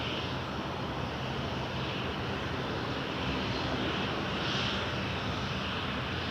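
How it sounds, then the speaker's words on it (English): A WestJet Boeing 737-800 jet departing Toronto Pearson produces a steady, broad engine roar that holds fairly constant at moderate distance, with no voices. "We're gonna have a 737-800 WestJet 513 to Kelowna."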